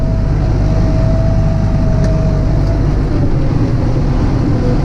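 A 4x4 tractor engine's steady low rumble drones throughout while hoeing between corn rows, loud and close, with a faint high whine running through the first half.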